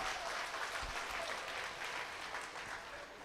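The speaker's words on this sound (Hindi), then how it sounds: "एक बार जोरदार तालियों से इनका इस्तकबाल कर लीजिए" A crowd at a mushaira poetry gathering gives a dense, sustained round of applause, steady and fairly loud throughout without letting up.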